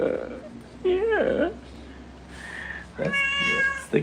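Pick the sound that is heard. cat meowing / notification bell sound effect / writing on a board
cat meowing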